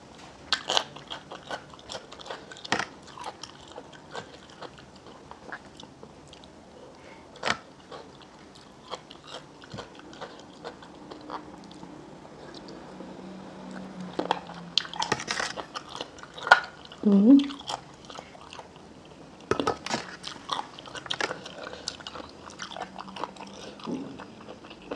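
Crunchy bites and chewing of a spicy Thai cucumber salad with crisp squid, close and fairly quiet, with irregular crackly crunches in bursts and short pauses between mouthfuls.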